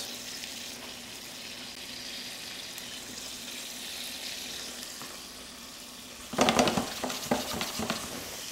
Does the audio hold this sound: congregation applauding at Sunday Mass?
no